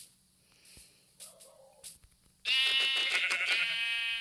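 Sheep in the video game Minecraft letting out a loud, wavering bleat that follows a few quieter scattered game sounds.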